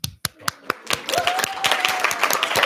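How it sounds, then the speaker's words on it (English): A student senate applauds to welcome newly approved members. A few separate, close hand claps start it off, then more people join and the clapping swells into denser applause. "we will welcome them in with a round of applause."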